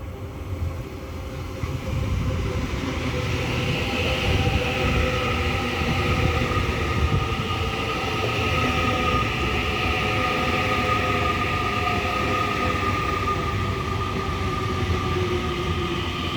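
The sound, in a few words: train arriving at platform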